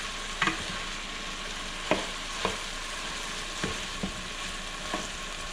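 Chorizo frying in a pan as flour is mixed in, with a steady low sizzle running throughout and a handful of faint, spaced clicks from the stirring utensil.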